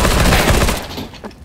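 Rapid gunfire from CS:GO, a quick burst of loud sharp shots in fast succession that fades out within about a second.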